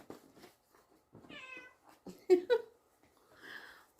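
A cat meows twice in quick succession, close and fairly loud, in a quiet room where someone works on cross-stitch embroidery; soft rustling and light handling noises come before and after the calls.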